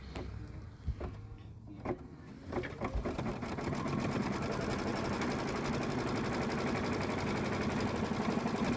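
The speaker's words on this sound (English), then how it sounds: "We're going to stitch our placement line." A sewing machine stitches a placement line on fabric. After a few scattered handling knocks, the motor starts and runs as a steady, fairly quiet rapid whirring hum to the end.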